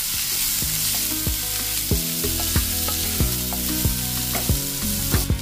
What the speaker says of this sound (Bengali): আলু ভাজার যে তেলটা ছিল অবশিষ্ট, সেটাতেই আমরা পেঁয়াজটাকে ফ্রাই করব।